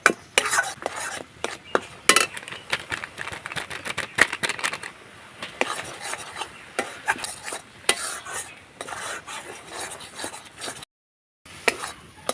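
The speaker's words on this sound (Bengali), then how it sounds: "দশ টাকা দামের আমুল দুধের প্যাকেট নিয়েছি একটু করে দেব আর মিশাতে থাকবো" Grated carrot is stirred into packaged Amul milk in a pan for a carrot sweet, with a steady run of close scraping strokes against the pan and no talking.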